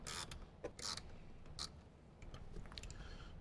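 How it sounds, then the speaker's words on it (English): Short ratcheting clicks and creaks come in a few quick bursts as a bolt is loosened from the speaker grill of a 2015–2018 Jeep JK Wrangler. The sound is faint and close, with quiet gaps between the bursts. "go ahead and remove the bolt closest to the windshield"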